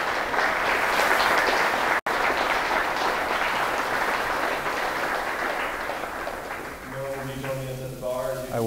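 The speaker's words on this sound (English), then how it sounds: "Okay, and another big round of applause." Sustained applause from a conference audience at a talk, dense even clapping that holds steady, briefly cuts out, then fades as a speaker's voice comes in at the end.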